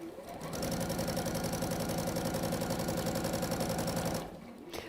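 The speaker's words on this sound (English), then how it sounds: "there's a lot of long seaming going on at this stage." A sewing machine runs steadily stitching a long seam, its fast even needle rhythm humming at constant speed for about four seconds before stopping, close and alone in a quiet workshop.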